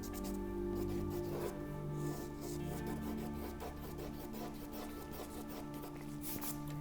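A mechanical eraser rubs across a charcoal drawing of hair, giving a soft, quiet scrubbing texture in short repeated strokes over a low background hum.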